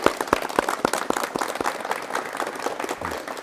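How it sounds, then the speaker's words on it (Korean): A studio audience at a Korean television talk show applauds to welcome a guest, a medium crowd clapping in a brisk, moderately loud burst that softens and thins out over a few seconds. "박수로 맞이해 주십시오."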